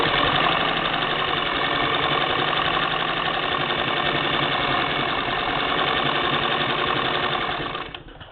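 A 1947 Singer Model 66-16 sewing machine sews a straight stitch, giving a continuous close mechanical whir with a fast rapid clatter that runs steadily for about eight seconds before winding down, with no voices.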